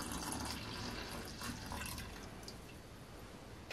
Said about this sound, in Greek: Θα ρίξουμε μέσα το νερό χλιαρό.